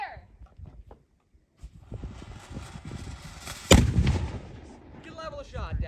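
Historic cannon firing: a sharp, loud blast bursts out after quieter moments of people talking and shuffling, then rumbles and fades while voices continue.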